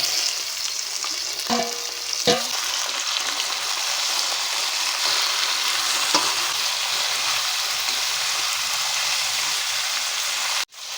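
Marinated chicken frying in a pan for restaurant-style chicken kosha: a continuous, bright sizzle close up, with a few sharp stirring clinks and scrapes, ending in an abrupt clack.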